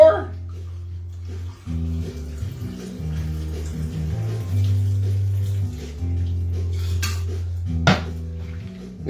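Cocktail poured into a glass over ice at home, a soft liquid splash and clinking of glassware under a low steady hum, close and gentle, ending in a sharper clink.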